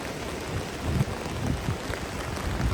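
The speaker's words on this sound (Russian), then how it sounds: "уже начался в Островке дождь моросить" Light drizzling rain in the mountains near Sochi, a soft continuous patter and hiss with no voices, steady and fairly close throughout.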